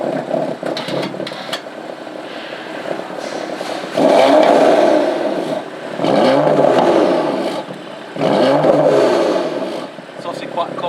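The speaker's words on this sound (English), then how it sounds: "let's hear what it sounds like." A BMW F82 M4 engine revving while parked on a cold day, three distinct throttle blips rising and falling over a steady idle, loud and close, with no talk over it.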